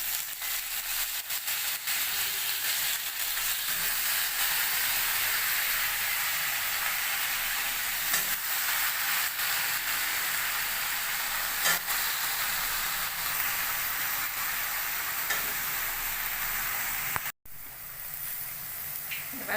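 Cut eggplant and potato drop into a pan of onions that have been fried until deep red, setting off a steady, loud sizzle that runs on continuously before a brief knock near the end.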